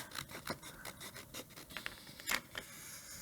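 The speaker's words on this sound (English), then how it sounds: "And then I can just use my scissors to trim this side." Scissors trim material for a DIY welcome sign, a series of quick close snips and scratchy rubs, faint and irregular, with no talk.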